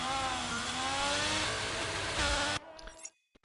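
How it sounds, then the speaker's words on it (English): A Haas Formula 1 car in the F1 2022 racing game pulls out of the garage, its high-pitched engine droning loud and steady for about two and a half seconds before cutting off abruptly. "Sorry, a Haas car coming out first."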